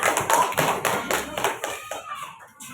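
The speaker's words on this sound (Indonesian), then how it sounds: "Kita beri tepuk tangan untuk kelompok 5" Classroom applause for a group of elementary students after their presentation, a burst of many hands clapping that fades over about three seconds.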